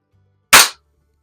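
A Webley Nemesis SSP air pistol fires a single sharp, close crack at a target inside a garage, with silence before and after.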